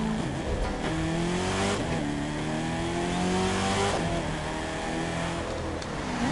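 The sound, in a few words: Chevrolet Camaro ZL1 muscle car engine revving, video game The Crew 2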